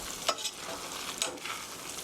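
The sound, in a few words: spaghetti being mixed with tomato sauce in a pan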